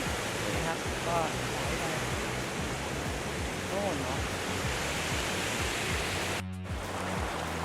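Water rushes and gurgles steadily in a stream flowing from a waterfall in Sai Thong National Park, Thailand, a constant broadband wash close by with a brief dropout near the end.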